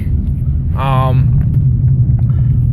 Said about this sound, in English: run up to about 120 kilometers an hour or so, just to give you an idea of what the car sounds like